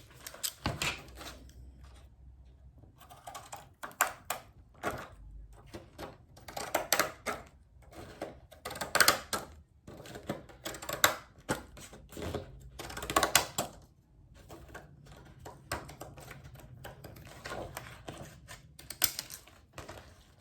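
Repeated crisp snips of designer scissors trimming a paper chip bag template, irregular and close, with small clicks and rustles between cuts in a quiet room.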